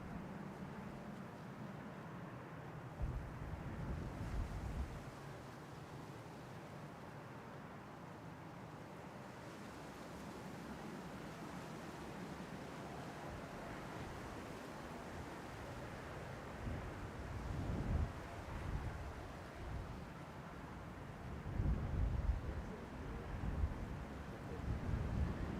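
Gusty, blustery wind roars steadily across an open airport apron during plane spotting, with heavier buffeting gusts swelling near the end and no talking.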